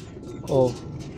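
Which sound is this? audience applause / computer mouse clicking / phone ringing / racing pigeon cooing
racing pigeon cooing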